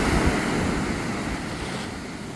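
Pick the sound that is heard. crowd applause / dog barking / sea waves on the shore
sea waves on the shore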